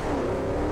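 Franken Stange hot rod engine in GTA 5 Online, a brief, steady, loud engine drone with no talking.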